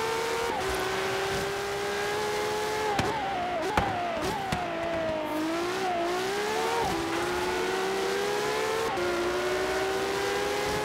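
A LaFerrari engine races in Forza Horizon 3, a loud, steady high-pitched howl that rises and dips with gear shifts, with a few brief knocks and tyre scrapes along the way.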